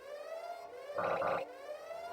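An electronic alarm siren in the video game Everhood 2 wails in a steady rising and falling tone, with a brief burst of a harsher buzzing layer midway.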